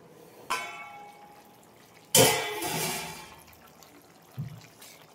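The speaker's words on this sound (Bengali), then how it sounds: "ঢাকনাটা খুলছি।" A lid comes off a pot of mutton that has cooked covered for about ten minutes over medium heat, releasing a sudden loud rush of steam and sizzle that fades over a second, with soft clatters before and after.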